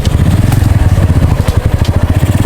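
A motorcycle rides a rough road, its engine thudding in a fast, loud, close pulse with rattling and clattering from the uneven surface.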